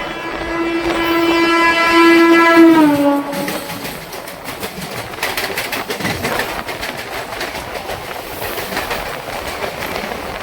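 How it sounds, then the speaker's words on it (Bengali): The Santragachi–Digha passenger train runs past Andul station without stopping, sounding a long, loud horn for about three seconds before giving way to a continuous rattling clatter of wheels and carriages. "Santragachi Digha first passenger train এই মুহূর্তে আন্দুল রেল স্টেশন স্কিপ করবে"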